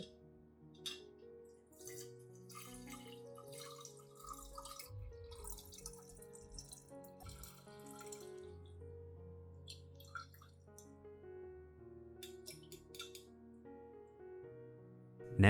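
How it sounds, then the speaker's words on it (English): Red onion solution drips and trickles through a strainer, with irregular quiet drips and gentle liquid splashes over a soft, faint background. "I will strain out all of the onion residue, keeping only the clear liquid without any sediment."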